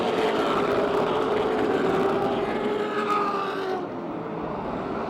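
Race cars roar together at Motordrome Speedway, a loud, steady engine drone from a close pack coming out of turn 4, thinning slightly near the end.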